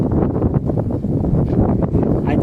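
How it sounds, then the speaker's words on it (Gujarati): Strong wind buffets the microphone in an open farm field during pesticide spraying with a spray pump, a loud continuous low rumble. "જરાક પવન વધારે છે"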